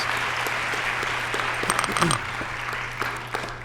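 Audience applause following a musical performance at a college Martin Luther King Jr. Day convocation hall, a moderate, sustained patter of clapping with scattered louder claps and faint voices mixed in.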